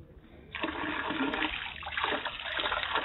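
Cold Himalayan mountain water gushing from an opened tap: after a brief quieter moment, a sudden steady rush and splash of running water starts and continues, close and fairly loud.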